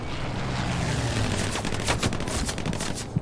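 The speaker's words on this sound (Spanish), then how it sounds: "Y siguen disparando." Gunfire in the World War II game Hell Let Loose: sustained shots and bursts crackle from a middle distance over a steady battlefield wash, with no voices over it.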